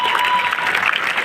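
A crowd claps continuously at a celebration of JEE Advanced 2026 results in Bikaner, a dense, loud, steady wash of applause throughout.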